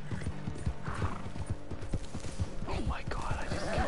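Quick clip-clop hoofbeats of a galloping horse with a neigh in Red Dead Redemption, dense and close, set against the game soundtrack.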